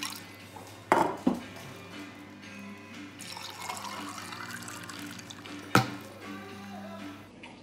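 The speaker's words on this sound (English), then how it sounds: "hot water, running water, hot, cold, boiling, straight out the tap" A tap runs steadily with a soft hiss, and two sharp clinks of dishes knock nearby.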